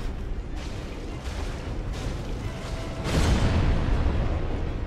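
A boss in a Souls game unleashes an explosion attack, a dense roaring rumble that swells louder partway through and holds, with no voices over it.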